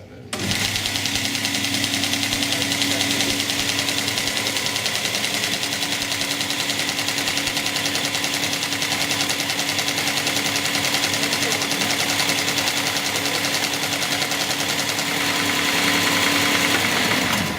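A SAMAS punched card sorting machine runs continuously, giving a dense, even mechanical clatter that stays close and steady for the whole stretch, with no clear speech over it.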